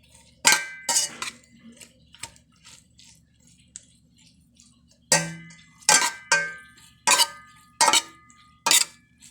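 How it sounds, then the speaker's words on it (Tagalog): Sautéed onion and ginger stirred in a pan for adobong labong: sharp clinking scrapes of a utensil against the pan in two clusters, separated by a quieter pause, with no talking. "Paghalo-haloin po ito."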